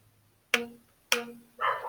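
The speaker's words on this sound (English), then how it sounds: "I also hear dogs barking." Two sharp dog barks about half a second apart, moderately loud, followed by a burst of rougher noise; otherwise quiet background.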